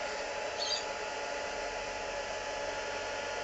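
A heat tool blows steadily at close range, drying paint on a Doctor Who galaxy Tardis ornament with a constant airy whir and no pauses.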